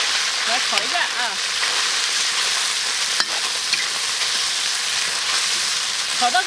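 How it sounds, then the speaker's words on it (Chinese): Beef stir-fried in a wok over a weak cooking fire, with continuous loud sizzling and scraping stirring strokes throughout, close up. "牛肉下锅"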